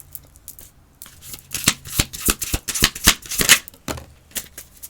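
Tarot cards being drawn one at a time from a deck: a rapid run of crisp card flicks and slides, close and fairly loud, with quieter rustling before and after.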